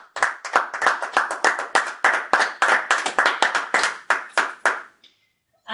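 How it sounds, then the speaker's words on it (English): Clapping in a classroom, a small group's distinct, closely spaced hand claps going steadily for several seconds before stopping abruptly, with no talking. "Let's give her a round of applause."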